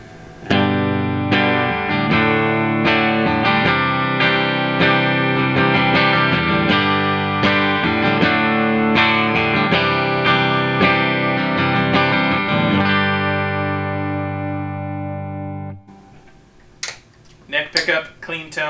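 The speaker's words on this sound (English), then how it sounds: "Clean tones bridge with the coil split." Diamond Guitars Monarch electric guitar on the bridge pickup with coil split, clean tone; chords ring out in an even, repeated rhythm, then stop, followed by a few faint clicks and handling noises.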